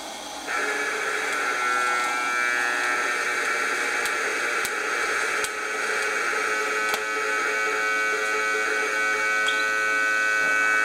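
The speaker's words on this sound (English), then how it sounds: "The art of TIG welding." TIG welding on a mild steel gate, a steady electrical hum and buzz held unbroken for about ten seconds, with a few faint crackles on top and no talk.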